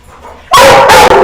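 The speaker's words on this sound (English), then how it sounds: "hey, the dogs are excited about the show this morning, I guess." Close, very loud barking from excited dogs bursts in suddenly after a quiet moment and continues in sharp yipping barks.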